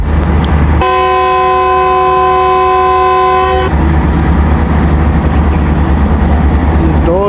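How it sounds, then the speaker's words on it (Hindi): The 38 Down Baba Fareed Express departs Walton railway station, sounding one long, loud, steady horn blast of about three seconds over a constant rumble of rail noise. "डिपार्ट कर रही है वाल्टन रेलवे स्टेशन से 38 डाउन बाबा फरीद एक्सप्रेस"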